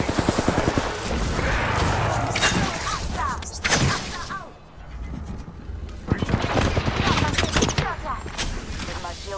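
Rapid video game gunfire bursts, loud and close, with dense repeated shots and some mechanical clatter; a voice speaks briefly over the action.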